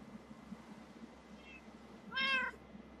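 Faint short meow from a cat in Minecraft, followed by a louder, clearer meow near the end, over a low steady game hum.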